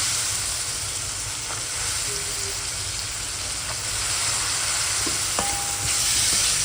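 Soaked chana dal is sautéed with vegetables in a pan, giving a loud, continuous sizzle and frying hiss throughout, with occasional faint stirring taps and clicks close by.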